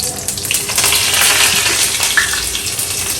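Curry leaves sizzle and crackle in hot oil over mustard seeds and urad dal, a steady close frying hiss with small spits and pops throughout, no voice heard.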